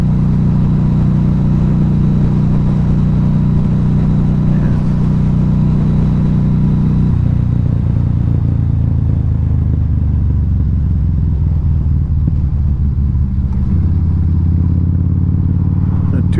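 Harley-Davidson 2012 V-Rod Muscle engine under way, a steady low rumbling drone that shifts pitch a few times as the rider changes speed, loud and continuous with wind noise.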